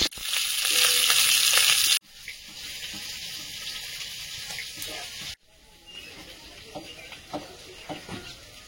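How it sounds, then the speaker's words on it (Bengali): Fish fries in hot oil in a wok with a loud, dense sizzle, broken by two abrupt cuts and followed by softer crackling and spitting as the pieces settle. "কড়াইতে তেল দিয়ে মাছগুলো ভেজে নেব।"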